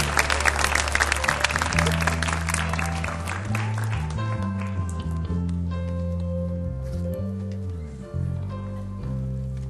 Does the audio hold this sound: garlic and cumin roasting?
no